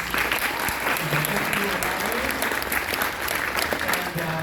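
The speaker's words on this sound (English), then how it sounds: "So give yourselves a round of applause." A convention crowd at a horror fan con's panel for a band breaks into loud, sustained applause, thick and continuous from start to end, with some voices mixed in.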